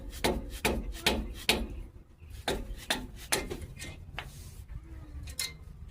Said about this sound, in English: Take a screwdriver, and just pop them off.